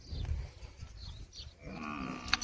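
A herd of cattle and buffaloes with a stray bull among them, heard as low lowing and shuffling close by, with a clearer call rising near the end over rustling outdoor noise.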